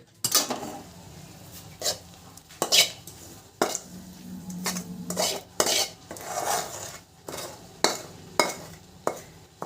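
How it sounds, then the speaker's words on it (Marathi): A spoon scrapes and clinks against a pan while sesame seeds are stirred into melted jaggery for chikki, a series of irregular close scraping strokes at a moderate level. "हे सगळं व्यवस्थित आपण मिक्स करून घेऊया गुळामध्ये"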